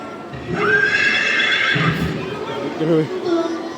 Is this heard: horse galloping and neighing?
yes